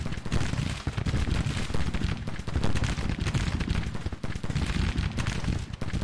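A Civil War battle in the video game Grand Tactician: The Civil War brings steady crackling volleys of musket gunfire aimed at artillery, dense and continuous with heavier booming thumps mixed in.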